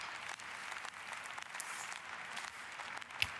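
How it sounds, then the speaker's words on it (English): Members of the German parliament give Friedrich Merz extended applause during a debate on migration and asylum, a faint, distant, even rush of many hands clapping, steady throughout with one sharper clap near the end. "So, Mr. Merz getting extended applause there."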